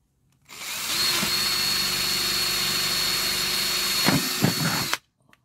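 A power drill whirs steadily for several seconds, loud and close, then stutters briefly before stopping.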